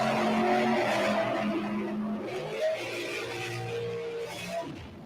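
Drag racing at Cecil County Dragway, with an S10 pickup facing a Pontiac on the strip, engines roaring steadily at moderate distance and fading slightly toward the end, with no talk over them.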